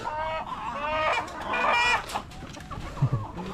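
Chickens cluck and call as they are scattered feed, with overlapping bird calls and a couple of louder close clucks near the end over a busy outdoor background.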